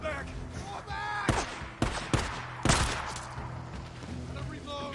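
Gunfire in the video game Days Gone, a few sharp shots and short bursts rising above a noisy game scene, fairly close and loud, with a voice heard talking in the mix.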